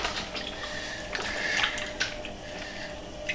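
African giant snails are washed by hand in cold water with alum, giving soft, faint splashes, sloshes and wet squishes in short bursts, with no voices.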